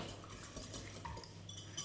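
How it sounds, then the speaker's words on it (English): Utensil scraping and clinking against a bowl while flour and a sprinkle of table salt are dry mixed, quiet and close, with a sharper knock at the end. "Now you want to dry mix it"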